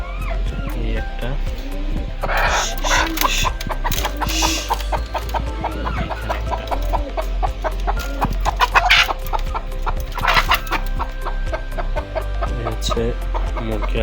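Native hens kept in a refurbished village cage give continuous close clucking and short squawks, some louder bursts standing out, over a low background hum with a voice speaking at times.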